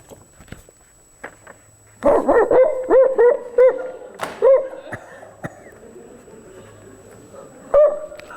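A man imitates a dog with a quick run of short, yappy barks, then a few more scattered yelps, loud and near, with quieter sounds in between.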